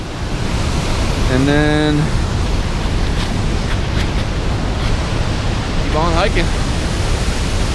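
A waterfall on a mountain hiking trail near South Mineral Campground roars as a steady, loud wash of noise throughout, with someone speaking briefly over it.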